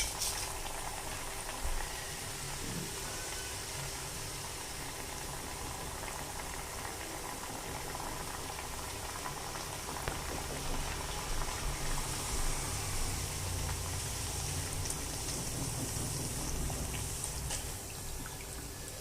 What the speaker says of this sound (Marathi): तळून बघू